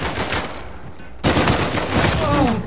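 Rapid automatic gunfire in an Uncharted 4 multiplayer match, a dense loud burst that swells sharply halfway through and keeps rattling, with a player's voice talking over it.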